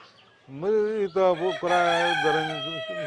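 An American Brahma rooster on a poultry farm crows loudly and close, one long drawn-out call, with other chickens clucking faintly in the background.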